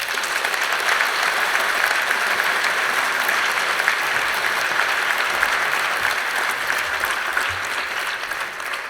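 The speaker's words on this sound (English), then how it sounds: "please give yourselves a round of applause as well" A conference audience applauding steadily, a dense, loud wash of many hands clapping that holds at an even level for several seconds and eases only slightly at the end, with no speech over it.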